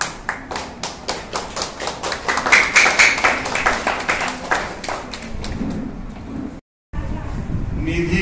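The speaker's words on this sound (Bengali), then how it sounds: "একটু জোরে করতালি দিয়ে ওদের উৎসাহিত করার চেষ্টা করুন।" An audience at a coaching camp closing ceremony claps in a steady rhythmic beat, close and fairly loud, while someone speaks over the PA; the sound cuts out briefly near the end, then resumes.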